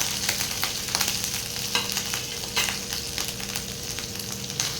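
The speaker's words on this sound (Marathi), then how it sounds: "आता यामध्ये आपण अद्रक आणि हिरवी मिरची टाकून घेऊया" Ginger and green chillies fry in a cumin tempering for fasting-style kadhi, a continuous close sizzle broken by occasional spatula scrapes and light pops, moderately quiet and with no voices.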